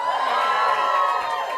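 Crowd at an awards ceremony for journalism and PR in a hall, a brief steady wash of cheering and whooping voices, fairly loud and continuous, with no distinct individual claps standing out.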